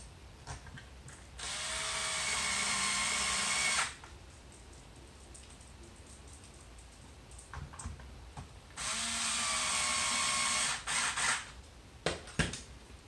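A power driver runs 3/8 machine screws into the rails of an FDL-3 (Wee) during assembly, two steady whirring bursts of about two and three seconds each, close and loud, with brief clicks and handling noise between.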